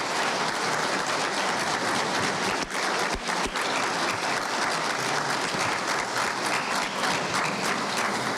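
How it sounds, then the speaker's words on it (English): An audience at a national awards event honouring digital innovators claps steadily for several seconds, a thick, even roar of applause with a couple of brief dips, heard from within the hall. "can we give a rousing cheer for our Digi innovators"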